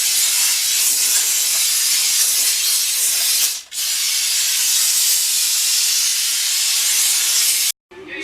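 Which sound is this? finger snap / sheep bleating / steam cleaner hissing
steam cleaner hissing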